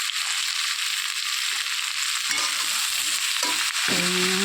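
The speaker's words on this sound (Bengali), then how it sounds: "হালকা আস্তে আস্তে করে নেড়ে চেড়ে ভালো করে মিশিয়ে দিচ্ছি।" Taro stolons gently stirred with salt and turmeric in a pan, producing a continuous loud sizzle with soft scraping of the spatula and a brief metallic clink near the end.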